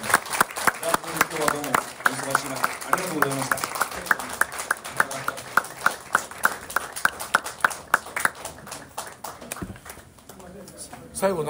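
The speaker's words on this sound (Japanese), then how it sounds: "あの鳩山先生はですねこの後ご用事で退席されますので拍手で" Audience at a Japanese political symposium claps in a steady, rhythmic series of sharp hand claps, moderately loud, running under continuous spoken voices and thinning out near the end.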